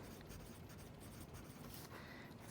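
Pen or pencil writing numbers on paper, a steady soft scratching that runs continuously and close for the whole stretch, with no talk over it.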